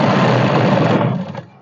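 A sewing machine stitches a ladies' suit in one loud, fast continuous burst close by, then winds down and stops.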